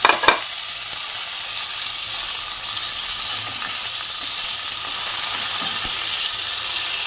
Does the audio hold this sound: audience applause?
no